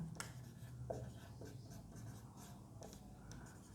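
Handwriting during a sociology lesson makes faint scratching strokes, a few short scrapes over a quiet room background.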